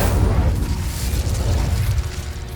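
Incendio fire spell cast in Hogwarts Legacy: a loud, rumbling burst of flame with a deep roar and crackling pops that holds steady for a couple of seconds, then gradually thins out.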